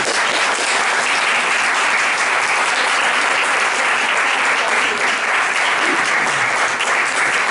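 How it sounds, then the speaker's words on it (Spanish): Loud, sustained applause from a large audience fills the whole stretch, dense and steady clapping without pause. "un fuerte aplauso para David Ibáñez, por favor."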